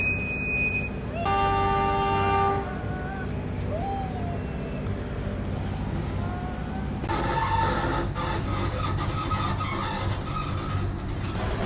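A train horn toots in long steady blasts as a train pulls away from Tanggung Station in Indonesia. The horn is loud and close, with rumbling rail noise and a second burst of horn later on.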